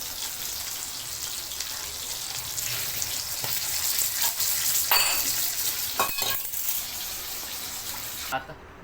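Pieces of pomfret fish fry in a pan with a steady, close sizzle and crackle, punctuated by a few brief scraping or stirring bursts.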